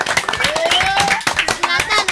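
An audience claps steadily through a French radio show, near and fairly loud, with voices speaking over the applause.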